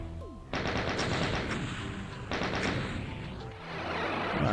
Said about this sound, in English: Decide to chain gun this other Revenant, see if that'll work.